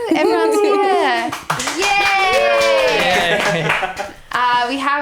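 A small group of podcast hosts claps and cheers together, loud close applause mixed with whoops and excited voices, dipping briefly before a fresh burst at the end.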